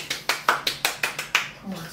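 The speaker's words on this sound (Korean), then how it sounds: "박수!" A small group claps at the start of a class, giving about eight crisp, evenly spaced claps close by before they trail off.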